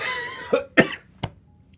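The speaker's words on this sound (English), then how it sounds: "That was a weird cough" A few sharp, short coughs in quick succession, close and fairly loud, then quiet.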